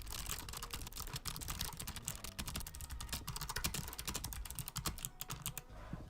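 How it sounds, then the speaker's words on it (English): Rapid, steady clatter of keys on a computer keyboard, fast continuous typing with no pauses, fairly close and clear. "So I'm going to do a quick typing test right now just to show you guys how quickly I type."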